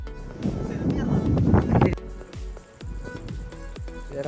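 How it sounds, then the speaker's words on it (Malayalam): Strong gusts buffet the microphone outdoors, a loud rumbling roar that swells and then drops off midway, with a faint voice underneath. "ഭയങ്കര കാറ്റ്, ഭയങ്കര കാറ്റാണ്."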